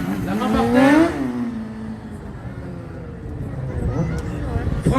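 An engine revs sharply during low-speed drifting and circles, one strong rising burst followed by a steadier, fainter drone, with a voice talking over it.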